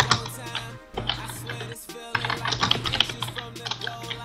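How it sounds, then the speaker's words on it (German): Fast typing on an old computer keyboard gives a dense, close clatter of keystrokes that pauses briefly twice, then resumes in quick bursts. "wir hatten eine Tastatur aus Hitlerzeiten"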